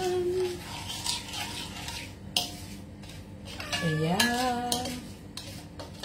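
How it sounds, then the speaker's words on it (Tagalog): A spoon clinks and scrapes against a pot or bowl while stirring a mixture until it dissolves, steady close clatter with occasional sharper taps and a faint voice now and then. "Halo ng halo hanggang matunaw."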